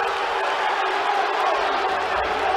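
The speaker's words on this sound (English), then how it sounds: "And you see some disagreements from the crowd." Crowd noise at a men's college wrestling dual meet between Ohio State and Nebraska, a steady murmuring roar of spectators voicing disagreement, with no distinct cheers or claps standing out.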